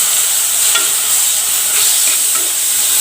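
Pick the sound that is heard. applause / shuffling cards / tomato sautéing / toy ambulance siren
tomato sautéing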